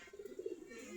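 Desi Giribaz pigeons coo softly while eating coarse rice, a brief, close, low murmuring call.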